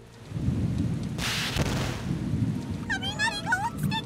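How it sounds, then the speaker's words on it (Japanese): A heavy downpour hisses steadily throughout while a loud thunder crack bursts in near the middle, and a bird chirps several times toward the end. "雷が落ちてきた。"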